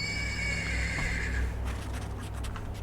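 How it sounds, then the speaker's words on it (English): A single horse whinny from a stable in the video game Black Book rings out, a drawn-out neigh that fades into quieter background hum. "The persistent neighing of a horse can be heard from the stables."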